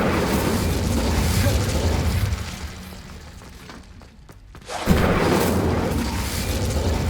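An Incendio fire spell cast in Hogwarts Legacy during combat, with a roaring, rumbling burst of flame over loud game ambience. The noise dips for a moment, then surges back with a fresh whoosh.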